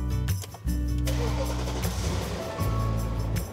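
A 2002 Alpina B10 V8S cranks and fires up, catching with a loud close burst and then settling into a steady idle with a brief blip. The engine is heard alone without speech.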